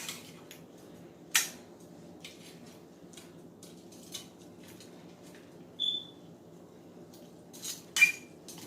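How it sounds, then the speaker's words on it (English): Seasoned chicken is stirred and set into a pan, with sparse metallic clinks and scrapes of a utensil against the pan standing out over a quiet low hum, a few sharper knocks near the end. "Stir it on up because we want to go and put all of this meat that I seasoned down at the bottom."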